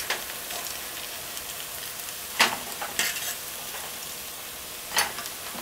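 Festival dumplings fry in hot oil on a stove turned to high, a dense continuous sizzle with a few sharper crackles and pops, close and without talk.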